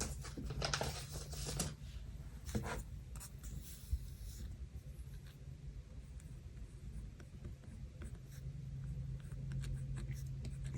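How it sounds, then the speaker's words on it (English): A pen scratching across planner paper while filling in a Hobonichi Cousin spread, steady close writing strokes with brief pauses, quiet and alone. "I'm using the wrong pen to write on the paper"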